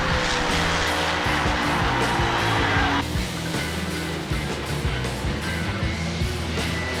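An alcohol funny car slides along on its side at a drag strip after deploying its chutes, a loud roar of scraping and engine noise that drops abruptly into a rougher, lower rumble.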